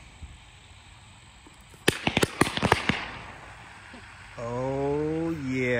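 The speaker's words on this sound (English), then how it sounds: "I heard a lot of firecrackers go off" Firecrackers fired on a slat rack with a Cobra firing system and booster, a rapid cluster of sharp outdoor cracks and pops lasting about a second, followed by a rising whine and wind noise.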